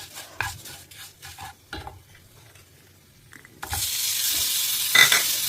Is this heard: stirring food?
yes